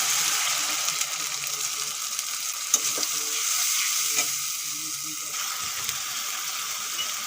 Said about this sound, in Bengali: আদা কাঁচা লঙ্কা আর টমেটোটা ভালো করে ভেজে নিয়েছি এখন যে মশলাটা বানিয়ে রেখেছিলাম দিয়ে দেবো